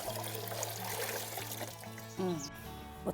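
Hot water pours and trickles steadily into a tub, with a brief splashy gurgle near the end and faint background noise throughout.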